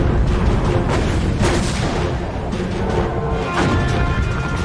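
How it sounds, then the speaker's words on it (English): Heavy naval guns of the battleships Hood and Bismarck fire in a dense, continuous roar of booming salvos and rumbling blasts, loud and overwhelming throughout, with no voices. "Hood and Bismarck open fire"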